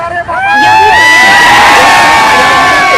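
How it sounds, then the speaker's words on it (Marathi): Party workers celebrating an election win outside an office in Shipur, a loud crowd cheering, whooping and shouting together in a sustained, excited burst. "सुरेशभाऊ खाडे यांच्या जनसंपर्क कार्यालयासमोर शिपूर येथील कार्यकर्त्यांनी जल्लोष साजरा केला"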